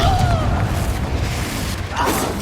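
A fiery Confringo blast spell booms in the Hogwarts Legacy video game, a loud low rumbling explosion with a whooshing tail, preceded by a brief shouted incantation.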